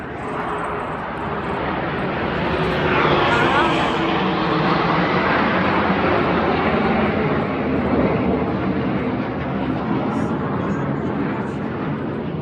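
A military aircraft on a training flight near an airbase passes over as a loud, sustained engine roar that swells and holds, with people talking faintly beneath it.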